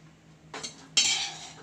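A spoon scrapes and clatters against a pot while rice and fried chicken are layered for chicken dum biryani: two short, close metallic bursts, the second louder.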